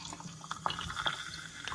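Filtered tap water being poured, a brief trickle with small splashes and drips, close and fairly quiet.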